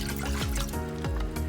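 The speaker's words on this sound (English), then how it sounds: "So I'm putting 2 cups of water." Two cups of water pour into a pressure cooker with a steady, close splashing trickle, faint and brief.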